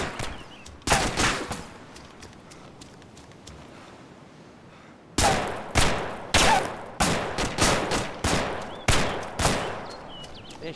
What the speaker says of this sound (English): They're shooting me through the rocks